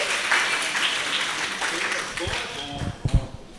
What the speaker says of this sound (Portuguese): Parabéns, palmas para elas, gente.